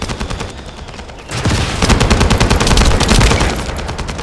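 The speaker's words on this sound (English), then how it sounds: "That stopped the gunfire." Dense, sustained automatic gunfire from a firefight in the sci-fi shooter The First Descendant, bursting in loud after a quieter opening and rattling continuously with overlapping shots.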